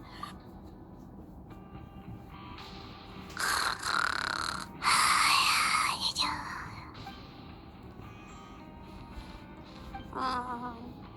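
Paimon, a character from the game Genshin Impact, snores while asleep in a soft, breathy voice, with a few drawn-out snores and mumbling sounds sharing the quiet scene with other game sounds.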